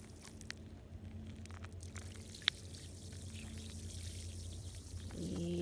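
Water poured onto pavement, running downhill toward a storm drain, gives a faint, steady trickle under a low background hum, with one brief sharp tick midway.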